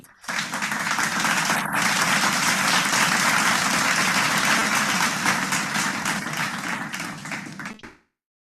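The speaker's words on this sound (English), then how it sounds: "Parth Bhai, let us have a very good round of applause for Dr. Manoj." Audience applause after a lecture at a healthcare and medical technology program, thanking the speaker: sustained, loud clapping from a crowd that starts abruptly, holds steady for about eight seconds and cuts off sharply.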